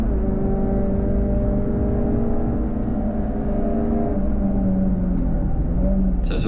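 A touring race car engine at Snetterton circuit drones loudly and steadily from inside the cockpit under hard throttle, with a sustained rising engine tone and road rumble and no talk.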